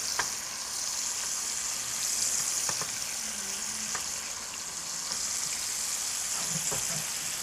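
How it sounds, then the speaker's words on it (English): Meat searing in hot clarified butter in a pan, a steady close sizzle and crackle with occasional soft pops throughout, no voices. "you just sear it off, sear in these nice flavors"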